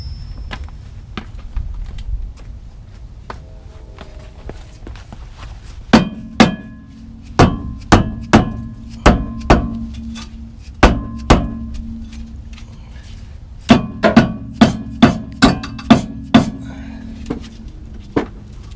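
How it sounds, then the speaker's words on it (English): A dead blow hammer strikes a warped rear brake rotor on a 2006 Honda Civic, landing a series of sharp close blows in quick bursts of three or four, separated by short pauses over a quiet background. "Get the dead blow."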